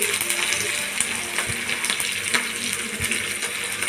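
Garlic, onion and green chillies frying in hot oil, a steady close sizzle with crackling pops and occasional clinks of a utensil against the pan.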